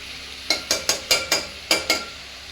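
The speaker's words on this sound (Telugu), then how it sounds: "మెల్లిగా వాటిని కలుపుకోవాలి, లేదంటే ముక్క అనేది చిదురం అవుతుంది." A utensil gently stirs Andhra-style korameenu fish curry in a pan, making seven short, evenly spaced scraping clinks against a faint background sizzle.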